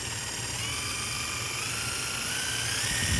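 A steady high-pitched motorized whine from a Makita 18V cordless impact driver driving a screw, running continuously, close and loud, with no pauses.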